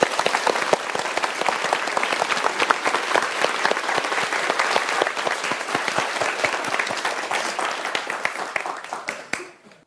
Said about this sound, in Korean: 우리 뜨거운 박수 한번 주십시오.